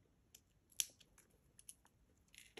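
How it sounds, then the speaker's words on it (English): Small cutters snip the end of jewelry wire while making wire-wrapped earrings, giving a few faint, sharp clicks and snips close by in a quiet room. "trim off that little end, tap that wire down"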